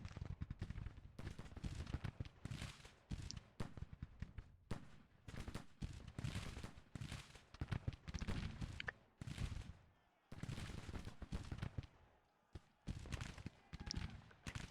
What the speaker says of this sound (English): Somehow you guys are shooting.